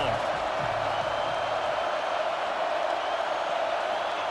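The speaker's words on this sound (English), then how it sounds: "This crowd ready to make its presence known." Stadium crowd in EA Sports College Football 26 cheers as a steady, dense roar that holds at an even loudness from start to finish.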